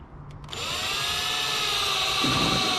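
A power drill spins up and runs steadily, whining close by, its pitch shifting slightly as it bites into wood.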